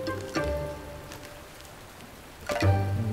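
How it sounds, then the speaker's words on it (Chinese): Rain falls as a soft, steady hiss in the background beneath gentle musical tones that swell at the start and again near the end. "天下雨"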